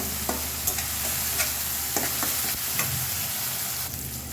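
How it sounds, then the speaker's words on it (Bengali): Dried fish frying in oil in a pan gives a steady, close sizzle throughout, with several sharp scrapes and clinks from stirring spaced at irregular intervals. "শুটকিগুলো তেলের সাথে একটু ভেজে নেবো"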